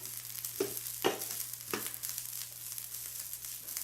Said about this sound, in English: we are frying